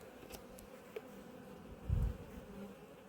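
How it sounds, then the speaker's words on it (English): Agitated honeybees buzz from an opened hive in an apiary, with wasps about. The buzzing forms a steady, close drone, and a brief low thump comes partway through. "they're a bit agitated because of the weather, and I've opened them up and there's wasps"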